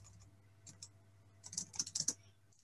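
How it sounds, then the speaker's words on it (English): Quick burst of keystrokes on a computer keyboard, close but quiet, with a few scattered clicks before a denser run of taps over a low steady hum and no talking. "I'm typing my message in the screen."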